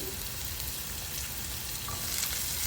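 Chillies, ginger and garlic sauté in a pan with a steady, dense sizzle that holds even throughout, close by and with no talking.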